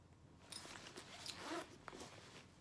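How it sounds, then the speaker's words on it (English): A zipper runs on the front pocket of a black nylon bag, with quick, close rasping pulls in a couple of bursts and no talking. "It does have a zipper pocket on the front,"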